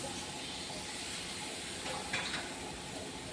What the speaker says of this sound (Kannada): ಈಗ 2 ಗ್ಲಾಸಷ್ಟು ನೀರು ಹಾಕಿ